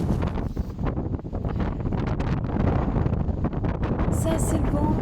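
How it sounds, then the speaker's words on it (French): Strong wind buffets the microphone on a mountain summit in rain and fog, a loud continuous low roar with gusty surges throughout. "Ça, c'est le vent en haut du sommet, plus la pluie, le brouillard"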